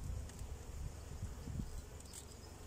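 Honey bees being moved from a nuc into a wooden brood box, buzzing as a low, continuous hum close by, with nothing else competing.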